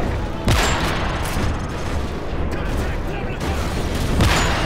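Dense, loud machine gun and gunfire barrage from the Call of Duty MW3 video game, European siege level, with repeated bursts and booms filling the scene.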